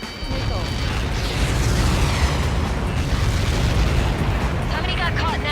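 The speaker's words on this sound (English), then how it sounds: "How many got caught in that explosion?" An explosion in the video game Ace Combat 7 lets out a loud, continuous roaring rumble that fills the whole stretch without fading.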